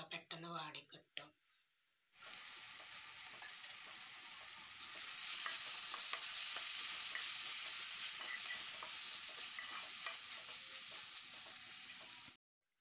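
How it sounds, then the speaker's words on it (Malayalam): Onion, green chilli, tomato and curry leaves sizzle and fry in a pan while being stirred for egg curry, a steady loud hiss after a brief stretch of speech, with faint scraping throughout. "ഇതിലേക്ക് തക്കാളി, കറിവേപ്പില ഇട്ട് കൊടുക്കാം. ഇട്ട് മിക്സ് ചെയ്തതിൻ്റെ ശേഷം ഇത് ഒന്ന് അടച്ച് കൊടുക്കുക."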